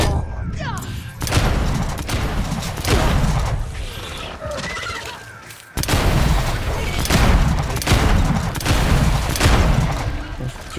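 Gunfire in the zombie game Dead Island 2 comes as loud, heavy shots and short bursts, repeated every second or so with echoing booms, while a voice speaks over the action.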